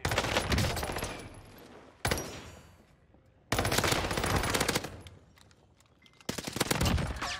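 Loud bursts of heavy gunfire and booming blasts from an enemy precision airstrike in Call of Duty Warzone on Rebirth Island, arriving in several dense waves separated by short quieter gaps.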